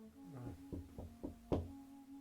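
Five hollow knocks on a door in an uneven rhythm, the last one hardest, set against a steady low electrical hum in a quiet room with no voices.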